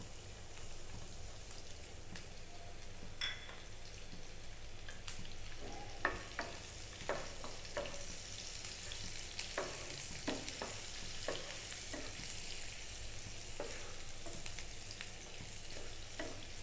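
Chopped onion, green chili and garlic fry in a pan with a soft, steady crackling hiss, broken by faint scattered scrapes and taps of a spatula stirring, no voices.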